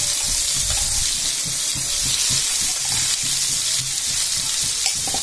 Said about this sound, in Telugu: ఒకసారి మన పోపు అంతా పచ్చడికి అయ్యేలాగా మనం కలుపుకోవాలండి